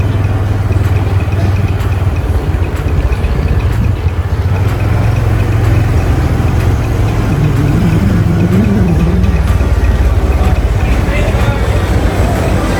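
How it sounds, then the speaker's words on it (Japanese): A steady engine drones loudly throughout with constant road and wind noise, riding a motorbike taxi through traffic in Pattaya, Thailand. "グラブバイクで乗って向かった様子を約100秒間ご覧いただきます"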